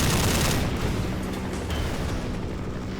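Attack-helicopter gunfire in Minecraft comes as a dense, rumbling barrage of rapid bursts and blasts, loudest at the start and rolling on continuously without speech.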